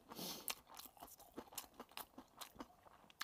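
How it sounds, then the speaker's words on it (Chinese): Close, crisp chewing of Sichuan-style salmon sushi made with chili sauce and pickled vegetables, a steady series of soft crunches and bites with no talking. "我想尝一下我的川味寿司"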